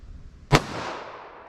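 A single sharp .45 ACP pistol shot from a 5.3-inch Glock 41, a loud close crack followed by a short decaying echo, with no talk.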